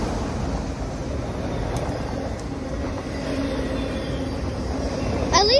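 A freight train rolling past, a continuous loud rumble and clatter of wagons throughout with a brief squeal of wheels near the end.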